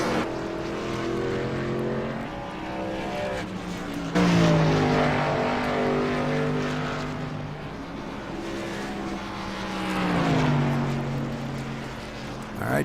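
Race cars run on a track, their engines droning loud and steady with pitch rising and falling as they accelerate and pass, and a few voices come through faintly under the noise.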